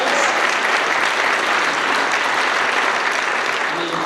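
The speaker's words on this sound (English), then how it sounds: "let's give them a big round of applause" Big round of applause from families at a high school freshmen night for students Sophia and Wyland, a dense, even wash of clapping from a full room, loud and sustained throughout.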